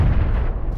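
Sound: grenade explosion in video game PlayerUnknown's Battlegrounds

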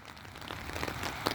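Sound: rain

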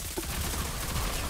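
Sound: gunfire in the video game Rogue Company

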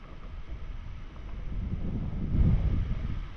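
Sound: wind

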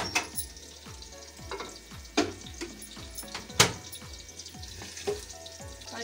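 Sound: onion, garlic, ginger and tomatoes frying in a pan

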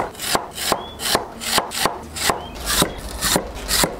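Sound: chopping potatoes and lotus root into thick slices

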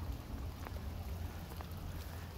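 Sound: heavy rain storm on farm

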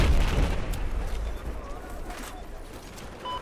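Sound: video game explosions and gunfire

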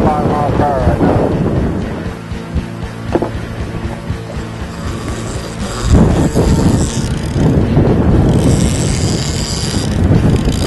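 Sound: strong wind on a boat

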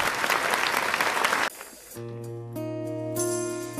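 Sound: audience applause for two young singers

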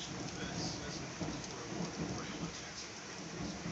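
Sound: thunderstorm with heavy rain

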